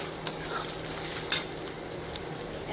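Cooked potatoes for sabudana khichdi are stirred and sautéed in a pan. Close, steady scraping and a light sizzle, with a few sharper utensil knocks and no talking.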